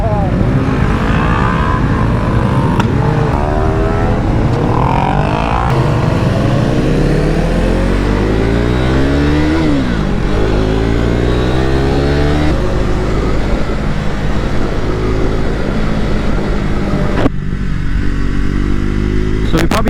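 Roughly ten motorcycles on a group ride rev and idle together, a loud continuous engine roar with rising and falling pitch sweeps throughout, with voices heard under the noise.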